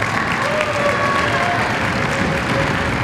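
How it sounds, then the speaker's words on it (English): Steady, dense applause from a school concert audience in an auditorium, greeting a high school string orchestra's viola soloist; continuous clapping at full level throughout with a few faint voices mixed in. "Round of applause for our soloist."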